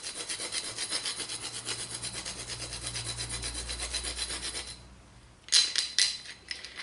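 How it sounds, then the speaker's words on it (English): Whole nutmeg grated by hand over a moussaka of dehydrated eggplant and ground lamb, a steady close scraping rub repeated in quick strokes for several seconds, then a pause and a couple of brighter clinks. "I'm just grating some over the top here."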